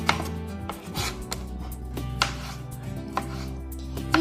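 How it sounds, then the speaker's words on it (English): A knife slices cucumbers thin for a cucumber and yoghurt salad, producing a steady series of crisp chopping taps against a board, close and clear with no talking. "You just slice the cucumbers thin."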